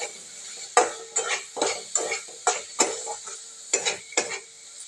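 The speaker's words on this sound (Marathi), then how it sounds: "सर्व मिश्रण आपण एकजीव होईपर्यंत परतून चांगले घेऊया।" A spatula scrapes and stirs a spice, tomato and onion mixture with red chilli powder and salt in a pan for a potato gravy. The close, rhythmic strokes come about every half second over a light sizzle.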